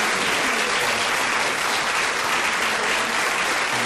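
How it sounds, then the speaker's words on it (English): A studio audience on the 1979 BBC panel game show Call My Bluff bursts into hearty, sustained applause, a dense wash of clapping that stays steady and loud from start to finish with no talk over it. "What a hearty burst of applause that entitles everyone to."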